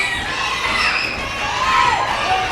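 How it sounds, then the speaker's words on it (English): A wrestling crowd at the NWA Arena roars and shouts in a steady, loud, dense wash of cheering voices that carries through the whole moment. "the crowd here at the NWA Arena erupts at the thought"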